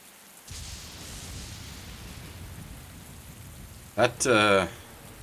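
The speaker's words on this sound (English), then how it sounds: "That rain" Steady rain hiss begins abruptly and continues evenly, moderately loud, then a voice cuts in near the end.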